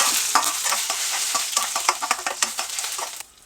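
Chana dal and dried red chilies fry in a pan with a loud, close sizzle and rapid scraping stirs, tapering off quietly near the end, with no voices.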